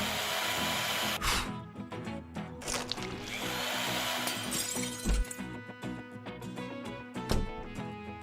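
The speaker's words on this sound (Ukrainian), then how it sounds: "Візьму йоржик і з'єднаю його з дрилем." An electric drill spins a toilet brush, giving a loud, continuous whirring buzz broken by sharp clattering bursts and knocks as the bristles strike, with no talking.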